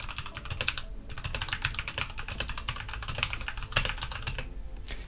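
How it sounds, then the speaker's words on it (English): Fast typing on a Redragon K530 Draconic 60% mechanical gaming keyboard with Outemu switches, a dense stream of close, crisp key clicks and clacks with brief pauses, quiet overall and without talking. "So let's do a sound test and a feeling test."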